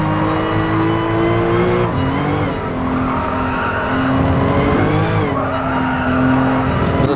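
A mid-engined RUF CTR3 in a racing video game squeals its tires as the rear kicks out, the skid wavering over a loud, continuous engine drone for several seconds.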